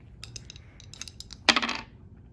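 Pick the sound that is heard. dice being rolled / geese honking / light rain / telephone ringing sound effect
dice being rolled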